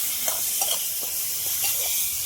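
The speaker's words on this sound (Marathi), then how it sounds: "जे चिकन धुतलं होतं ना ते चिकन सर्व आपण या फोळणीत टाकून देऊ कांद्याच्या फोळणीत आता परतून घेऊ" Washed chicken sizzles in hot oil with an onion tempering, turmeric and salt as it is stirred, a constant hissing fry with repeated scraping strokes of the spoon at a steady rhythm, close and alone.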